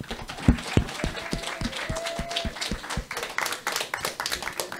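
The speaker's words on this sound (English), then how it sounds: "let's give a big round of applause for Debbie and all she does here" An audience at a church gathering claps for Debbie, opening with a few loud, sharp claps that spread into scattered, uneven clapping from a modest crowd, with faint voices mixed in.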